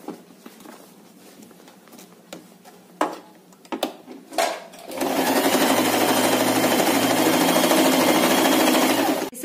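A few clicks and fabric handling sounds come first, then a sewing machine starts and runs continuously and loudly up close while stitching a small tote bag.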